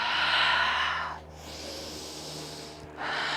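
Long, airy breaths during seated yoga: a deep audible inhale, a pause, then another breath beginning, steady and close with no talking.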